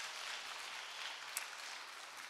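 A church congregation claps in encouragement, a dense, even wash of many hands filling the room, sustained at steady volume for the whole span with no talk over it.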